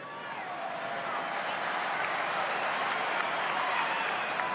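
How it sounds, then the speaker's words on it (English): Fight-event crowd at a bout between Luke Jumeau and Dhiego Lima applauding during a pause in the action; steady, dense clapping with crowd murmur fills the arena throughout, loud and continuous. "any stop in action, they start clapping"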